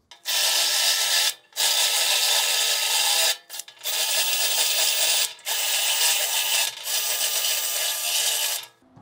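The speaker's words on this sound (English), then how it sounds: "get my drill bit, my flattened drill bit in here and grind those out" Harsh, loud grinding of a flattened drill bit against metal, grinding out spot welds on a car floor pan, in several long bursts separated by brief pauses.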